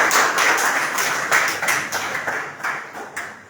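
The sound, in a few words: audience applauding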